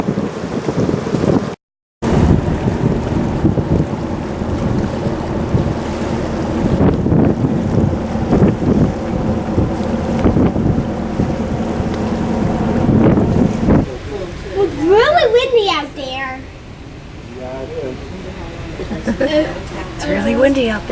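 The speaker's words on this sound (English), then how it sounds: "It's really windy out there, that's why I'm inside." Strong wind in the port city of Prince Rupert buffets the microphone in a constant roar, with a brief dropout early on and some high chirping sounds near the end.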